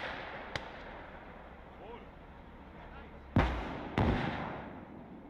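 Two heavy artillery blasts in the Call to Arms: Gates of Hell Ostfront war game, fairly close and loud, following a sharp distant crack, with battlefield rumble and talking voices throughout.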